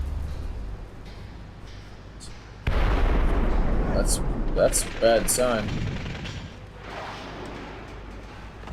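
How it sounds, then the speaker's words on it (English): In the stealth video game Splinter Cell, gunfire and explosions on an oil rig hit in a loud burst of blasts and crackling shots partway through, over a low rumble, with someone talking over it. "Okay, so gunfire, explosions"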